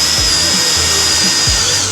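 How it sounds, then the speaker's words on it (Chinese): A cordless drill bores a hole in wood while held in a homemade vertical drilling guide with a depth stop, giving a steady close high whine with a few low knocks, and no talk. "那现在我们再把手电钻装上"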